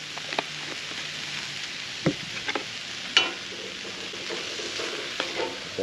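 Texas rub seasoning is stirred into chili in a cast iron pot cooking outdoors by a lake: a steady soft sizzle with intermittent scraping strokes and a few sharp clinks of the spoon against the iron.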